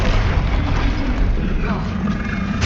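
A Confringo fire spell explodes in the video game Hogwarts Legacy: a loud, dense, rumbling blast fills the whole moment with a sustained, booming roar.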